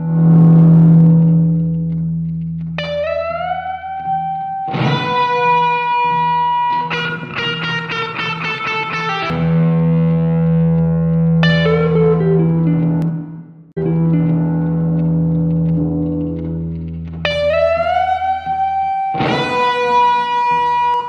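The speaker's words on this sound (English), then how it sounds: "Let's add some distortion." Synth melody run through a distortion effect in a VST plugin, sustained gritty tones with a low drone underneath, shifting pitches and bright harmonic stabs, loud and continuous with no talk.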